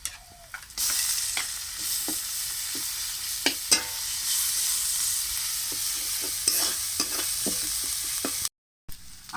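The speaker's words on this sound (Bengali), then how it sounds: "আদা রসুন ভালোভাবে পেঁয়াজের সঙ্গে ভাজা হয়ে গেছে" Ginger and garlic frying with onion in a pan, a bright continuous sizzle broken by repeated scrapes and clinks of stirring, close and clear with no voices.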